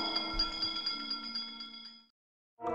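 A resonant bell rings with a sustained shimmering tone for about two seconds and fades, then a fresh strike sounds after a short silence.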